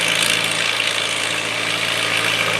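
A 1949 Farmall antique tractor engine roars loud and steady at close range during a tractor pull, dragging a weight-stacked sled on small 16-inch aluminum wheels.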